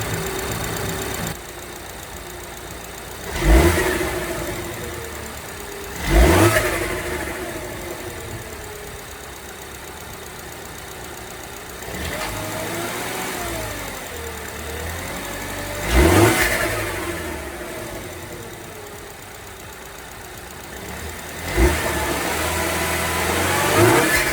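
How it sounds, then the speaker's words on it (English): A Mini Cooper S F55/F56 turbo engine with a newly installed air filter idles steadily, then revs sharply in short bursts four times, each rising and falling quickly before settling back to a low idle. "we'll give it a wee rev and see what it sounds like"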